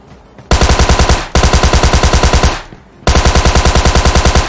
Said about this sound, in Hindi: फालतू गोली चला रहे हैं बे